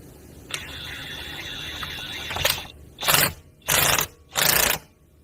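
Socket ratchet on a Honda Rancher, Foreman or Rubicon ATV's primary gear reduction, with a faint whir followed by three loud, close bursts of ratcheting in short even spurts.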